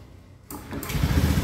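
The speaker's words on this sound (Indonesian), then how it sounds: "ada Scoopy dengan keluhan ketika menghidupkan motornya" A Honda Scoopy automatic scooter with a starting complaint fires up, its small engine catching abruptly and then running at a loud, buzzing idle that rises quickly, close by and without talking.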